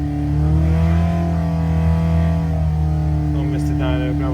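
A V8 engine in a Husky runs on a dyno at a steady, loud, held speed, with a strong constant drone. Near the end a voice speaks briefly over it.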